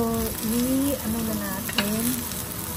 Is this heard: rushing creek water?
no